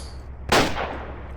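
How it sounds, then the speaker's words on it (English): A single sharp gunshot in the WWII Online game, cracking loudly and then trailing off in a short decaying echo, alone without speech. "Please stop the shooting."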